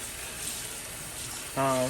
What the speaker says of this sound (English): we're going to run them under cool water and get them clean